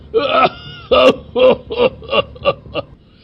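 A cartoon boy gives a run of about seven loud, rhythmic coughs in quick succession, each a harsh voiced burst, with nothing else around them.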